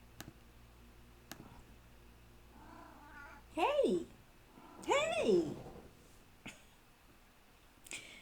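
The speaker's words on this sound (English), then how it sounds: "that is my other one that is meowing there" A 21-year-old cat meows twice, loud, drawn-out, wavering cries a second apart, over a quiet room with faint ticks, and a person says a brief word.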